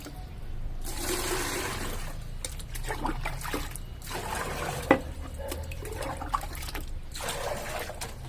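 Water pours steadily into a five-litre bucket, a continuous splashing gush with a couple of brief knocks, close and fairly loud.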